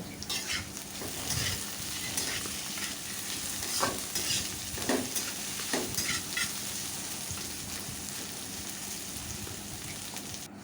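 Chopped potatoes and onions fry in a pan for an egg-potato curry, with a dense, continuous crackling sizzle broken by stirring scrapes and occasional pops, steady and close with no voices.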